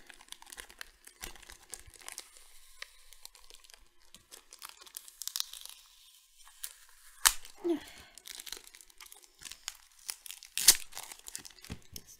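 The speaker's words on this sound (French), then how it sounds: "C'est tout un sport d'enlever le scotch des tripack." Crinkling and tearing of plastic as sticky tape is peeled off board game tripack packaging, irregular crackles and rustles close up with a couple of sharper rips.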